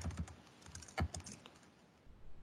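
Rapid clicks of typing on a computer keyboard during an Active Directory group management session, a quick burst of keystrokes with louder thumps near the middle, close and alone with no talk.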